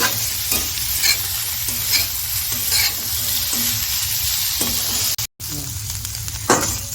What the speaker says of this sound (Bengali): ভালো করে সমস্ত সবজি ভেজে নেবো।